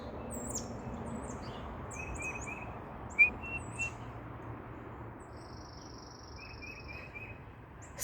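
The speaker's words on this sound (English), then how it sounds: "Oh, I love the sounds of the birds. Oh, it's so soothing." Birds chirp and tweet in short, scattered bursts over a steady outdoor hiss, fairly distant, with one sharper call standing out partway through.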